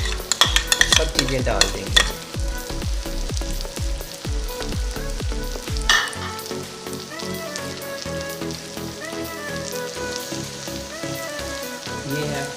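Garlic and vegetables such as cauliflower fry for a mixed vegetable pickle, with rhythmic scraping stir strokes over a loud, steady sizzle; the stirring thins out and the frying hiss carries on alone.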